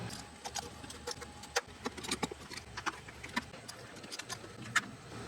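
A trim removal tool pops plastic pins out of the rocker panel of a 2019+ Chevy Silverado/GMC Sierra during a running board install, giving a quiet series of sharp, irregular clicks and snaps with no talking.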